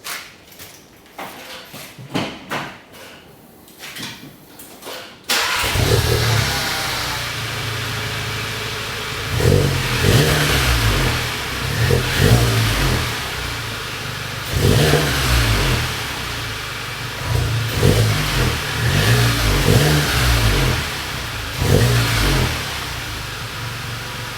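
A Mk7 Golf GTI with a fabricated exhaust and resonator boxes idles with a deep rumble, then revs repeatedly in bursts, loud and close, with a throaty exhaust note between each rise.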